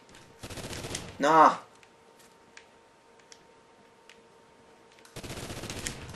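Loud, rapid bursts of unsilenced gunshots from a PS4 shooter game come at the start and again at the end. A short shouted cry sits between them, with a quiet lull in the middle.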